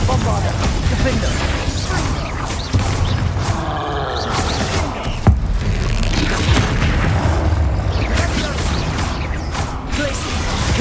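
Hogwarts Legacy spell blasts, Confringo and Bombarda, as dense, continuous booming and crackling impacts layered over a game battle, with a voice talking throughout.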